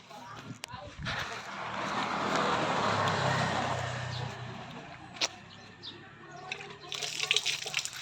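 A hand water pump in a rural province works water out in a steady rush that swells and fades over several seconds, with a few sharp clanks from the pump handle near the end.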